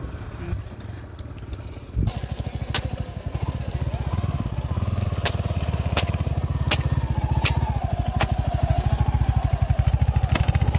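A motorbike engine idles and revs nearby with a steady rapid chugging, rising and falling in pitch, after a short quieter stretch.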